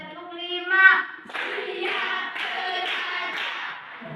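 Schoolchildren in a classroom clap out a patterned sequence in unison, a steady run of group hand claps following a voice, close and moderate in level.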